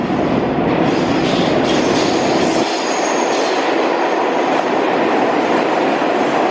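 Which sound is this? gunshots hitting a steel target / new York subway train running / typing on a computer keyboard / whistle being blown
new York subway train running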